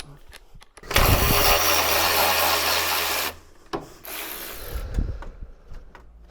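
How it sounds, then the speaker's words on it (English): A ratchet wrench removing the pulley bolts on a Mazda MX-5 engine, a loud steady run of rapid clicks for a couple of seconds, then a shorter second burst, close up in a workshop. "there are 4 bolts in there that need to be removed for the pulley"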